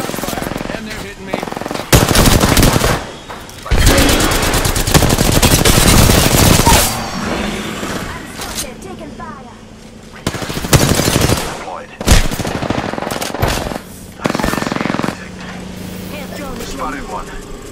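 Rapid gunfire rattles in heavy bursts during a ranked Apex Legends match, loud automatic volleys stopping and starting with quieter gaps, while a player talks over the fight.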